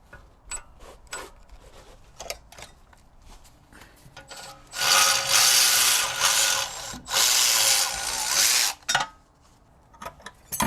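A ratchet or wrench works loose the 16 mm rear brake caliper bracket bolts on a BMW E90, giving a few bursts of harsh grinding and rasping clicks between quieter handling taps and clunks.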